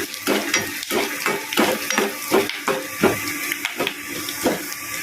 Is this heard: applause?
no